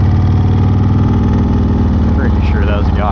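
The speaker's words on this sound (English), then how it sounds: "Pretty sure that was a guy on a motorcycle." A motorcycle passes in traffic near a speedway, a loud, close, continuous engine drone with a slight rise in pitch toward the end, as a voice briefly cuts in over it.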